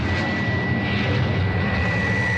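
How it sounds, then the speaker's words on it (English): A robot plane's jet engine roars steadily in an audio drama, a dense, continuous rushing drone with a thin high whine running through it, loud and unbroken throughout. "Faster, faster, robot plane."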